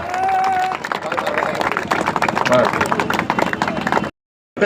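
A crowd claps and cheers loudly outdoors at a cricket final, dense overlapping applause with voices mixed in, ending abruptly in silence.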